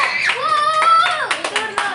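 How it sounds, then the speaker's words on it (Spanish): A few scattered claps from a small class in a Kichwa language workshop, rising under a voice that keeps speaking over them. "un aplauso para Santiago."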